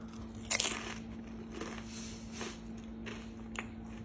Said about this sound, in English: I want you to hear the crunch of these kettle chips.